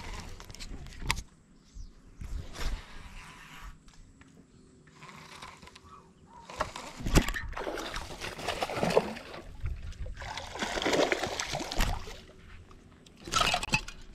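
A hooked catfish thrashes and splashes in river water beside a boat, with irregular bursts of splashing and dripping, some loud and close, spread over several seconds between quieter moments.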